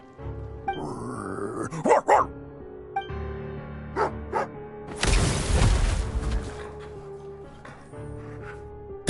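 A dog barks in the Genshin Impact video game, several sharp separate barks and yips with a growl-like stretch, set over a quiet in-game music bed with a burst of noise midway.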